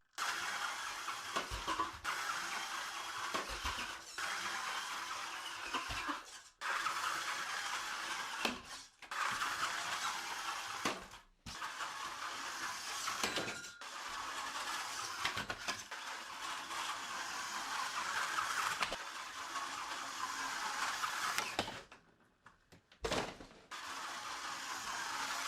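A 3D-printed monowheel weighted with M8 studding, washers and nuts as ballast runs with a steady mid-pitched motor whine. It stops briefly several times and starts again, and no one speaks.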